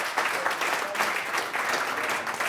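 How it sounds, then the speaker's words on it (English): An audience at a talk on hardware gives steady, dense applause, many hands clapping at once with no pauses, fairly loud and close, with no voices over it. "let's give a really great applause to Nick Pinkston"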